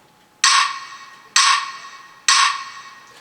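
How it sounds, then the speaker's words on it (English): Three sharp rhythm stick hits in a deep house beat land about a second apart, each with a boosted crisp attack and a reverberant tail that fades before the next. "I use a rhythm stick to accentuate it"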